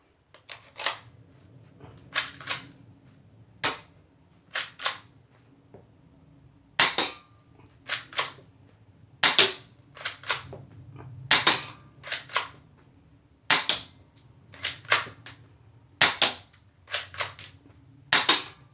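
A Chinese shell-ejecting foam dart blaster toy fires and chambers in a long series of sharp, dry plastic snaps and clicks, spaced irregularly, some in quick pairs, close and alone with no talk.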